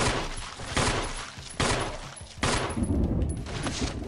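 Bursts of rapid automatic gunfire in a video game come in three or four loud volleys with short pauses between them, layered over game noise and no clear talk.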